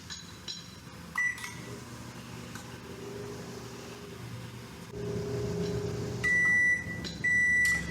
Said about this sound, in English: we're gonna microwave that for about 40 seconds.